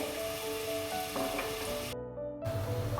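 Onions frying in oil with reddened garlic and a little salt for a Kundapura-style country chicken curry: a continuous sizzle with a brief cutout near the end, then a louder fry.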